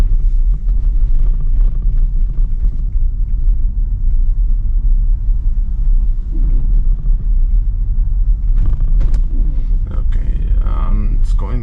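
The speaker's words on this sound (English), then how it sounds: "Beta is like taking the car through the deep snow" Tesla running FSD Beta through deep snow in Montreal, a steady loud low rumble of the car ploughing along the whole time, with talk over it and some busier scraping noise near the end.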